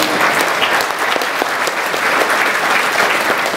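Audience at a talk on ethical leadership with Pat Haden applauds steadily, a dense wash of many hands clapping close and loud, with no speech over it.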